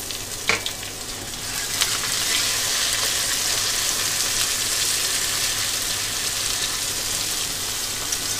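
Chopped onion and potatoes frying in hot oil, a steady loud sizzle and crackle with a few sharp pops near the start, no voices.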